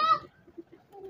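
A Rampuri pigeon coos in a few soft, low pulses, following a brief brighter harmonic call at the start; close and fairly quiet, with no talk.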